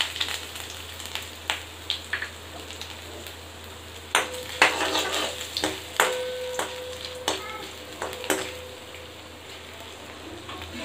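Ginger frying in a pan while being stirred for a sweet tomato and jaggery chutney: a light sizzle punctuated by sharp spoon clicks and scrapes against the pan, growing busier in the middle.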